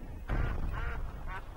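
Ducks quack in the PC game Dink Smallwood: three distinct nasal quacks follow one another over a faint background, fairly close and clear, with no speech.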